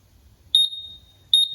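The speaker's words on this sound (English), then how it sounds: "we're waiting for the machine to beep and then change direction" A nitrogen tire exchanger machine emits two clear, high electronic beeps about a second apart, each sustained briefly over a quiet background.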